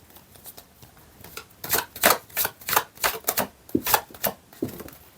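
A deck of tarot cards is shuffled by hand, giving a quick run of close, crisp riffling bursts that build and repeat in an uneven rhythm for several seconds.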